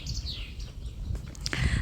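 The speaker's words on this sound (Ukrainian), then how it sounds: "Чи як пташки співають. Так класно." Birds chirp and sing in short calls over steady outdoor background noise in Ukraine at Easter, moderately close, with no talking.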